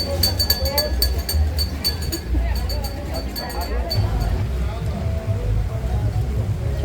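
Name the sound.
rain at an outdoor market in Mexico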